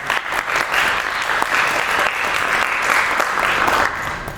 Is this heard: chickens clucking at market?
no